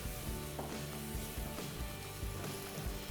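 Mushrooms fry in a pan for a vegan lasagne, and red wine poured over them sets off a steady, close sizzle. The hiss runs continuously, broken by soft stirring knocks at irregular intervals.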